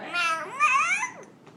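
A voice imitates a cat meowing, a drawn-out rising and falling meow followed by a shorter trailing one, close and fairly loud with no other sound.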